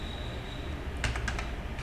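A short burst of typing code on a computer keyboard, five or six light, close key clicks over a steady background hum, with no talking.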